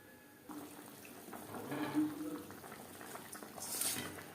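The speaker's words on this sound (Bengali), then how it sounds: "4-5 মিনিট গ্রেভি বেশ ভালো করে ফুটিয়ে নেব।" Thin cauliflower and tangra fish curry gravy bubbling in a pot on the stove, a steady, close, moderate simmering wash of small bubbles with faint watery splashes and no voices.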